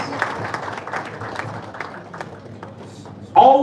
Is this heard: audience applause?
yes